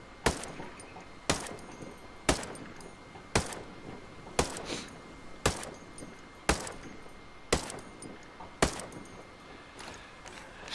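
An unsuppressed HK416 rifle in Ghost Recon Breakpoint fires single sharp shots at a steady pace, about one each second, ten loud cracks in all with short tails, and no talking.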